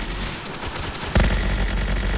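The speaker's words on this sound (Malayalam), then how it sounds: "നമുക്ക് ആളിനെയും കൂടി വെടിവെക്കാം" Rapid automatic gunfire in a military video game, a continuous rattling burst that grows sharply louder and heavier partway through, with no talking.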